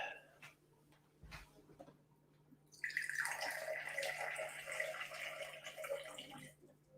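Water trickles into a cocktail glass over bitters, a faint steady pour starting midway and running for a few seconds before tapering off, close and quiet.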